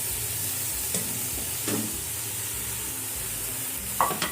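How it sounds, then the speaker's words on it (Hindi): Fried okra stirred into sizzling masala in a pan crackles with a steady hiss, broken by a few sharp clicks of a spoon against the pan. "तो अब हम इसके अंदर ये भिंडी जो हमने फ्राई करके रखी थी वो शामिल कर दी हमने"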